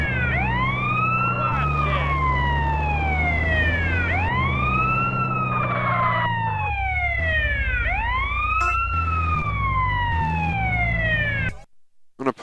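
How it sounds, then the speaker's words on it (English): An ambulance siren in the video game Grand Theft Auto: San Andreas wails loudly, sweeping up and down in repeated cycles over a steady engine rumble, then cuts off abruptly near the end. "I'm trying to pick someone up with an ambulance with a siren on."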